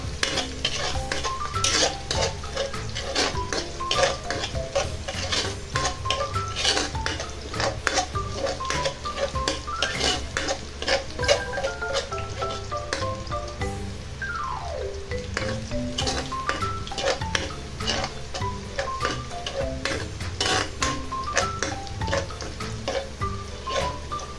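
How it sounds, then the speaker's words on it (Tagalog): Garlic sautés in a pan under constant stirring, with a spoon repeatedly scraping and clinking against the metal over a continuous soft sizzle. The stirring is steady and busy throughout, and no one speaks. "So, continuous lang ang halo para hindi masunog ang ating bawang."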